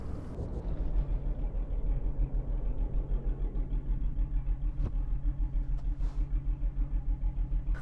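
A heavy MAN 520 truck engine in Euro Truck Simulator 2 rumbles steadily at low pitch, a constant deep drone with a few faint clicks and knocks toward the end.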